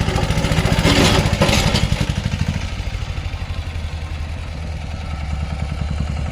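A Jyoti three-wheeler tractor with a 10.5 engine ploughs stony, grassy ground, its engine chugging steadily and loudly up close with a rattling, labouring rhythm throughout.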